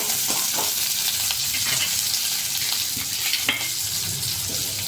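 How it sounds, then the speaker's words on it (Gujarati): Spices and green chillies sizzling in hot oil in a pan for matar paneer, a steady close crackle with occasional stirring scrapes, continuous and without talk. "મસાલા હાઈ ક્લાસ શેકાઈ ગયા છે તો તેમાં લીલા મરચાં નાખી દેશું ગેસ ધીમો રાખીશું"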